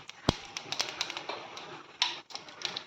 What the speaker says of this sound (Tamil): இப்போ நம்ம இதில் கொஞ்சம் கடுகு போட்டுக்கலாம்.